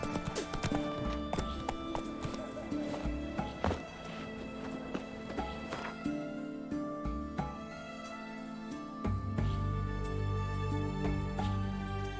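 Roach the horse galloping in the fantasy game The Witcher 3, with rapid rhythmic hoofbeats thudding steadily throughout under background game music and ambience, close and continuous, with no talking over it.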